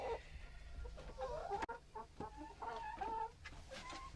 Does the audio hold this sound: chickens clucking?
yes